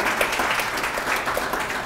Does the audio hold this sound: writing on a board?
no